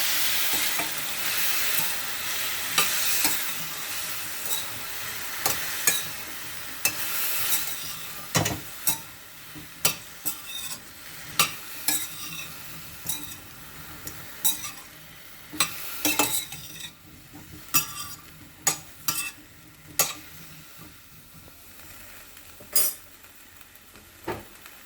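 Cauliflower frying with cumin in a pan, a steady sizzle under repeated sharp clinks and scrapes of a spoon stirring, the sizzle easing as the stirring continues.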